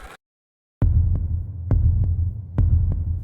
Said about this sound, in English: heart pounding so loudly she could hear it echo in her ears